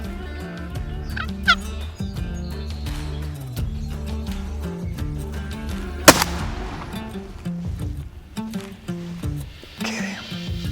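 Wild turkeys gobble during a spring hunt in Wisconsin, with several loud, rattling gobbles and clucks spread across the stretch, one sharp bang near the middle, over outdoor background and without clear talk.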